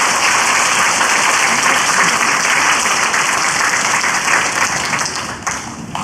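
A church congregation at a Sunday worship service applauds steadily, a dense, loud wash of clapping from a large crowd that fades slightly at the end.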